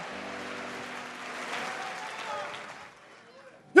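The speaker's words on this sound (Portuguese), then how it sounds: "Se é para Jesus, pode aplaudir mais forte." A church congregation claps during a sermon, a soft steady wash of applause that fades out, with a brief loud knock at the very end.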